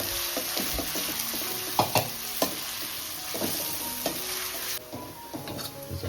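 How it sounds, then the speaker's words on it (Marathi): Chopped onion fries with a steady close sizzle in a pan as it is stirred. A few sharp utensil knocks land near the middle, and the frying hiss continues throughout. "कांदा परतून घ्यायचं आपल्याला"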